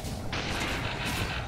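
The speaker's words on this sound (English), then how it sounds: "Black Cannon being used again" Black Cannon ability firing in Dota 2, a steady loud roaring blast of cannon fire that swells partway through and continues over a busy game soundscape.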